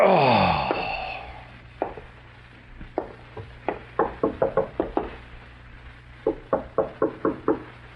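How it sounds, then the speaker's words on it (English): Someone knocks on an apartment front door, with several groups of sharp, evenly spaced raps that grow firmer, following a fading musical sting in an old radio drama, with no talk. "Your first impulse is to answer the door, isn't it, Ted?"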